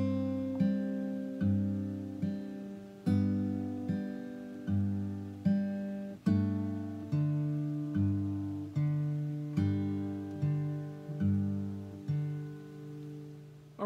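Solo fingerstyle acoustic guitar plays a short passage of a beginner song, plucked notes with a steady bass pulse ringing under a simple melody, quiet and close, with no talking.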